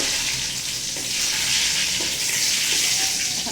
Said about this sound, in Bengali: আদাটাকে একটু লাল লাল করে ভেজে নেবো